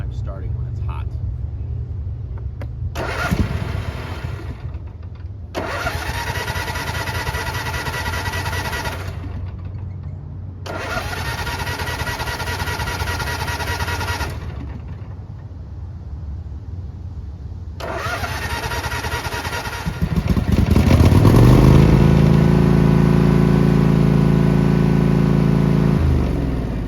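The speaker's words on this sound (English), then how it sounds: "it will start when it's hot, but it bogs and it sure takes a long time" A Cub Cadet RZT50 mower engine, hot, cranks in three long labored bursts separated by pauses before finally catching, then runs loud and rough, bogging as it settles.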